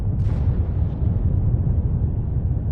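Explosions at an impact point in the video game Armored Core 6, a deep rumbling boom with a brief bright crack near the start, then a sustained low roar that lingers steadily without talk.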